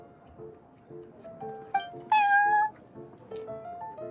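Cartoonish cat meows in the Cat's Tail tavern scene of a Genius Invokation TCG card game, several short tonal mews over soft background music, one louder sustained meow in the middle.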